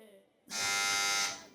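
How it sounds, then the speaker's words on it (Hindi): A game show buzzer on a kids' quiz programme sounds after a short lead-in, one loud, harsh electronic buzz held for nearly a second before cutting off. "टीम बहरिया टाउन ने बजर बजा दी है जनाब"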